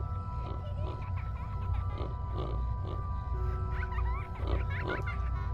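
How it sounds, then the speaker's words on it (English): Hog grunts and oinks from the SCP Secret Files video game, several short bursts repeating over a steady low game hum, moderately near, with faint background voices. "That sounds like a hog."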